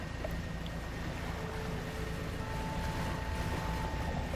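A small motorboat in the fishing game Dredge drones steadily across open water, a continuous, even engine hum with a faint wash of wind and waves and no talking.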